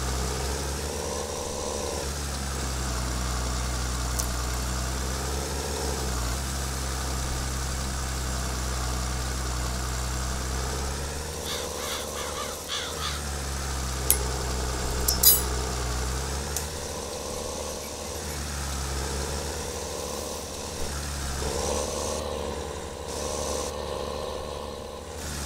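A New Holland 3630 tractor engine in Farming Simulator 22, a low steady drone that dips and swells in load over about 25 seconds, with a few brief metallic clanks and scrapes partway through.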